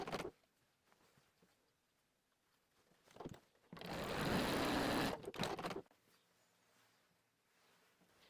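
Sewing machine stitching the top three pieces of scrap fabric for a heart petal placemat: a steady whirring run of a couple of seconds, framed by quieter handling noises and short bursts, heard up close with no talking.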